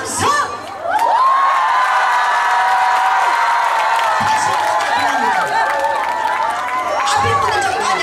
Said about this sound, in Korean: 박수와 함성!